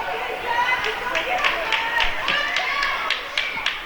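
A hockey crowd in an arena at a youth Atom B game in Vaudreuil reacts with rhythmic clapping and cheering, steady and moderately loud under a commentator's voice.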